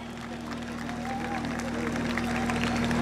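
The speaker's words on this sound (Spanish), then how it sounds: "Viene entrando y le damos aplauso." Crowd applause at a rodeo in Villa Madero during the October festivities, scattered clapping and murmuring from the stands rising gently beneath a steady electrical hum.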